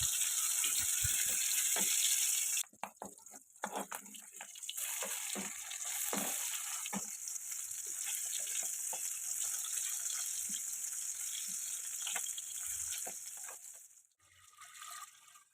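Fish frying with spices in a pan in an Assam village kitchen gives a steady, close sizzle and hiss. Occasional clicks and scrapes of stirring break through, with a brief pause near the start.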